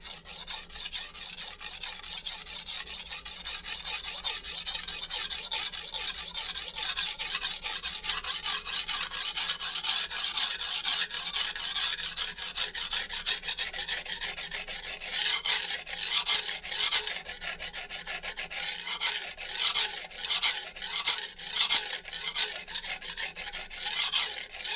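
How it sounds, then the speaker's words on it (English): A Wusthof chef knife grinds steadily across an ultra coarse Shapton Japanese whetstone, a close, continuous raspy scraping with repeated strokes and no talking. "today is simply a sharpening session to see how this stone reacts with this steel"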